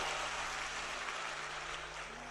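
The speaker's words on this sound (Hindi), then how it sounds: "एक बार जोरदार ताली बजा" An audience at a religious discourse applauds in a dense, steady wash of clapping that holds evenly throughout and tapers slightly at the end.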